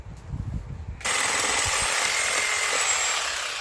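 A Sawzall reciprocating saw cuts into rotten wood on a ranch, starting after a second of handling noise and then running as a steady, loud buzzing rasp close by.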